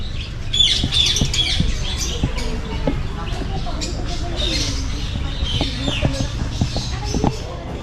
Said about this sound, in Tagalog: Daming ibon dun, oh.